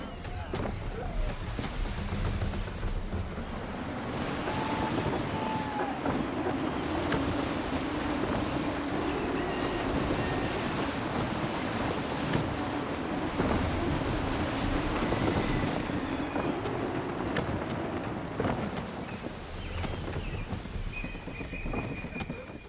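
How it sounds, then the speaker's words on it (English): Gusty wind rushes over a sailing ship in Assassin's Creed III, a loud steady roar mixed with surf and waves washing along the hull, with a few faint bird calls. "Wind looks to be shifting. Stay alert, Connor. Gusty winds can be difficult to manage."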